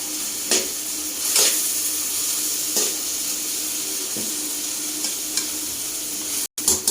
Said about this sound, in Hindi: अब ये जो हमने भिंडियाँ फ्राई की हुई थी ये ऐड करें